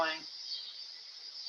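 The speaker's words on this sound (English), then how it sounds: "I assume those are cicadas. They're big, they're loud, they're annoying." Cicadas buzzing outdoors on a summer evening, a thin steady high-pitched drone heard from a distance through a window, with brief bits of a voice at the start and end.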